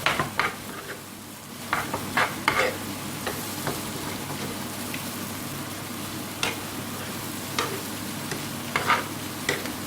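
Pieces of bottle gourd (lau) and prawns being stirred in a frying pan for a Bengali bhaji, a steady low sizzle broken by repeated sharp scraping and clinking strokes of the spoon, close and clear, no voices.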